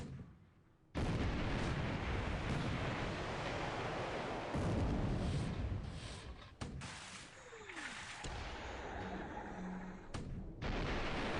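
Naval gunfire aimed at the ship Achilles in War in the Pacific, heard as a dense, continuous roar of booms and bursts with a few sharp breaks and renewed blasts, loud throughout.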